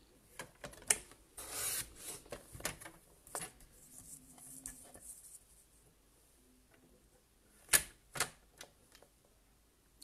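A paper trimmer recuts a strip of card stock for a pyramid box: a few close scraping slides and sharp clicks, with quiet handling noises between them and no talking.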